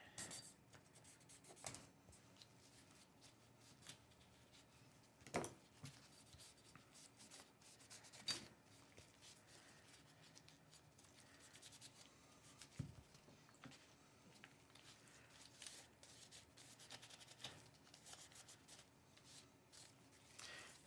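A cloth and a pick scrape and rub in the crevices of a Taurus GX4 pistol, making quiet irregular scratching and wiping with occasional sharper clicks.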